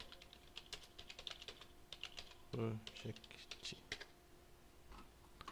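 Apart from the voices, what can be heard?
typing on a computer keyboard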